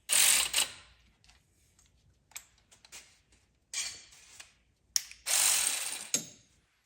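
A ratchet snugs a bolt on a Ford 4.0 timing system, with several short bursts of rapid pawl clicking separated by pauses, close and clear, with no talking.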